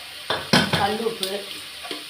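Tomatoes with turmeric powder and rock salt sautéing in a pan for chapati kurma, a soft sizzle under intermittent scraping and clinking of a spoon against the pan, close and fairly quiet.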